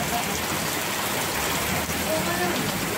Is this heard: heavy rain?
yes